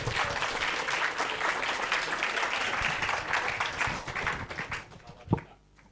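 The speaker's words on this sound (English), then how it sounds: "Please applause to Dr. Tospon." Conference audience applauding an invited speaker, a dense, steady wash of clapping for about five seconds that thins out, ending with a single sharp clap and then near silence.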